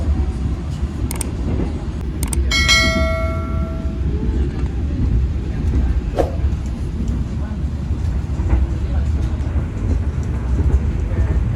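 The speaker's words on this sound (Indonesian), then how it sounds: "perjalanan kereta api Ranggajati ini telah tiba di stasiun Bumi Ayu" The KA Ranggajati passenger train pulls into Bumiayu station with a loud, heavy rolling rumble, a few sharp metallic clicks and a brief ringing brake squeal early on, then steady wheel noise.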